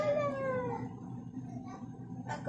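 A cat in a neighborhood in Lomas de Cocori, Pérez Zeledón, Costa Rica gives one drawn-out, falling meow up close, followed by quieter rustling and a short noise near the end.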